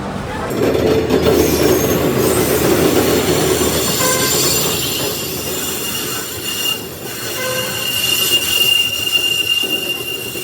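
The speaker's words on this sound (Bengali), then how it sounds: "আজকের ফারাক্কা এক্সপ্রেস বেনারস স্টেশনের 9 নম্বর প্ল্যাটফর্মে ঢুকছে" The Farakka Express rolls into a platform at Varanasi station with loud, sustained wheel squeal and rumbling rail noise, steady and close throughout, with faint murmur of voices in the background.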